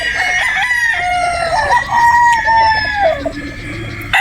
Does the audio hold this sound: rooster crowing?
yes